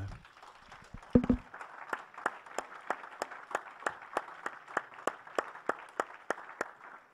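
A church congregation claps in a steady, even rhythm, the sharp claps repeating about twice a second. A brief louder knock comes early, and a soft murmur of voices sits underneath.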